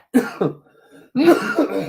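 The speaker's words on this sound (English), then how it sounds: "so I've got these coughs." Two bursts of coughing, each a couple of harsh, close coughs separated by a short pause.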